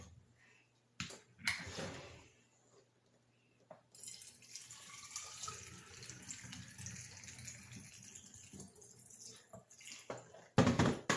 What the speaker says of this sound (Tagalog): lagyan po natin ng tubig